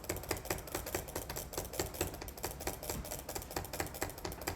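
Rapid butterfly clicking on a computer mouse, two fingers alternating on one button to make a dense, steady stream of sharp, close plastic clicks throughout with no pauses.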